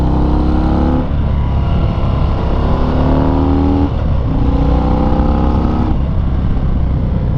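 A 2019 Harley-Davidson FXDR 114 motorcycle engine under way, loud and close, its pitch climbing in repeated pulls that dip briefly around shifts before rising again, with steady road and wind rumble beneath and no voices.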